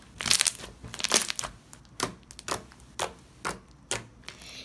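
Sharp, wet clicks and crackles from slime being squeezed by hand, coming in a close, regular series of pops that grow more evenly spaced toward the end.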